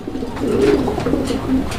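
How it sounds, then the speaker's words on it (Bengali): A pair of Danish pigeons coo close by in low, rolling, repeated calls. No other sounds intrude. "এখানে আরো এক জোড়া কবুতরের কালেকশন রয়েছে। এটা ডেনিশ কবুতরের একটা জোড়া।"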